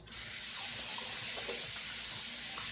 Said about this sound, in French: Alors, je nettoie bien mon visage.